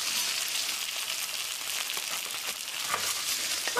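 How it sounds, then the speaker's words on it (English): Chicken searing in a hot pan gives a steady, close sizzle and crackle of frying that carries on without a break, with no talk over it. "So while the chicken is searing, I shall get on with the beans."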